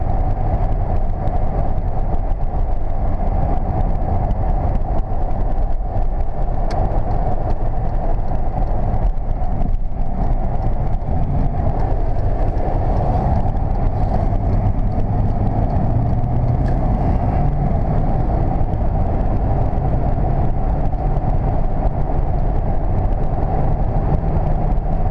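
A 1996 Lincoln Town Car limousine cruising on cruise control, a steady low engine and road drone with tyre rumble filling the cabin, loud and unchanging for the whole stretch with no talk.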